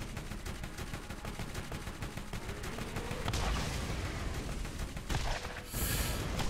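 Dense gunfire and explosions from the video game Borderlands, fired at skags, rattle continuously at close range with heavier bursts and a sharp high blast near the end.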